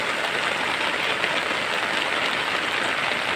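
Heavy rain pouring down during a flood, a dense unbroken hiss that is close and loud throughout, with no voices.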